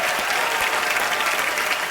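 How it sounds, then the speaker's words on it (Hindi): Studio audience applause on a TV comedy show, a dense, steady burst of clapping that fills the whole moment loudly with no talk over it. "सर के लिए एक बार जोरदार तालियां हो जाए।"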